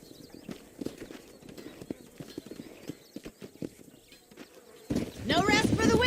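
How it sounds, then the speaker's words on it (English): Horses' hooves clip-clop steadily on the ground in the video game Red Dead Redemption, with a loud neigh near the end. No voices are heard. "These are fine horses."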